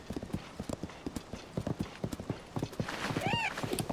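Horse hooves clip-clop in a steady, close trotting rhythm in the video game The Legend of Zelda: Tears of the Kingdom, with a brief whinny near the end and no talking.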